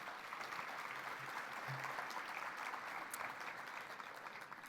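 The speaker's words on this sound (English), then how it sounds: "Can we have a round of applause for our sponsors" Steady applause from an audience at a maternal health summit, thanking the event's sponsors; a dense, even wash of clapping that holds at moderate volume throughout, with no voices over it.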